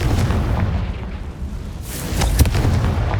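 A Confringo fire spell exploding in the Hogwarts Legacy video game on PC: a loud, deep booming blast rolling on for a few seconds, with a sharper burst near the end.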